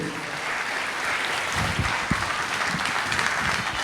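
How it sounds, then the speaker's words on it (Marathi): Audience applause at an event, with a sustained wash of clapping from a crowd, fairly loud and close throughout. "श्री संतोष भाऊ फासाटे यांच्याकरता जोरदार टाळ्या व्हायला पाहिजेत"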